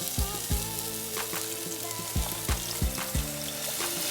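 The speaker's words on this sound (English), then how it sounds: "And again, we're just gonna kind of pour it till we get our consistency that we want. And we're just gonna keep whisking." Brown gravy being whisked in a pan on the stove, a soft sizzling bed with repeated clinking whisk strokes against the pan in an uneven rhythm, close and fairly quiet.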